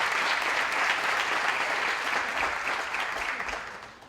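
Applause from an audience at a high school junior and senior awards night, a dense steady wash of many hands clapping that fills the room and gradually tapers off toward the end.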